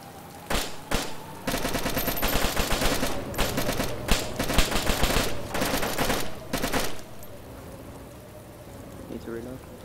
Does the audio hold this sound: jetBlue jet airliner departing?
no